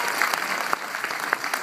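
Cinema audience at a film premiere at La Défense applauding James Hutt, a steady, moderately loud ripple of clapping with a few sharper individual claps standing out.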